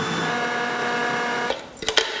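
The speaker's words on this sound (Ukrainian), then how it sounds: "Нарізаємо броколі і мелемо в блендері." A blender grinding chopped broccoli whirs steadily at high speed for about a second and a half, then stops, followed by a few clicks and knocks.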